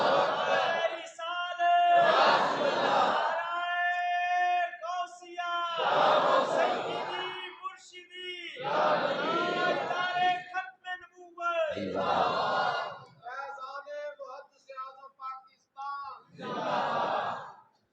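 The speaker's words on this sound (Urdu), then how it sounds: "وہاں بلند آواز سے سبحان اللہ سبحان اللہ، اللہ اکبر اللہ اکبر، وہاں پہ توحید و رسالت کے نعرے لگاتے رہو" A large crowd at a religious gathering loudly chanting slogans in unison, calling out in repeated bursts separated by brief pauses, the massed voices strong and harmonically rich.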